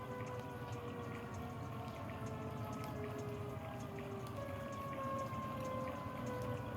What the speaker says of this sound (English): Oh, I hear it raining outside.